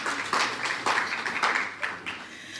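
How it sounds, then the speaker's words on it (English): Audience applause at a financial inclusion forum, honoring visiting ministers: a sustained wash of many hands clapping in a hall, moderately loud with rhythmic swells, no voices over it. "So let's please give them a round of applause."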